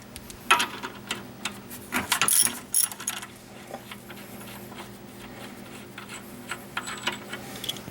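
Through bolt being worked out of the front suspension of a 1990 Ford Ranger 2x4 during ball joint replacement, heard as a run of close metallic clanks, ticks and ratcheting taps, loudest in the first three seconds and then lighter and scattered.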